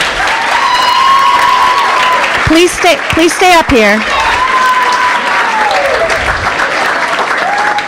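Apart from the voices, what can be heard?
round of applause for basketball cheerleaders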